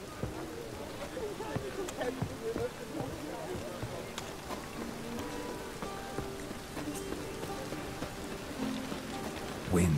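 Steady rain patters across surfaces in The Witcher 3 at nightfall, a continuous hiss with fine droplet ticks throughout, while characters talk over it at moderate distance.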